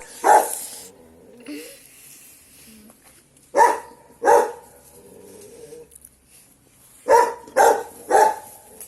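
Small dog barking in short bursts, a couple of single yaps then a quick run of three, close by with quiet gaps between.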